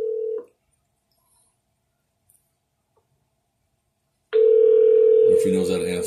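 A telephone line gives a brief steady dial tone that cuts off, a few seconds of near silence, then the dial tone returns loudly with touch-tone dialing beeps layered over it.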